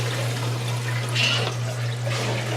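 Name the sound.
running water in newly installed water softener plumbing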